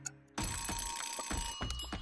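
Timer alarm ringing in a Farming Simulator 25 video game trailer, a loud continuous bright metallic bell trill that starts suddenly after a quiet moment and keeps ringing steadily, with no talk.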